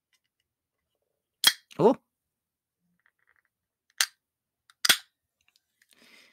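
A can is opened in a quiet room: a sharp crack and then a short spraying fizz, followed by a few isolated clicks and a faint voice.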